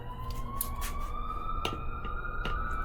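A police car siren wails somewhat off in the distance, a sustained rising tone over steady background noise, with a few sharp clicks standing out above it.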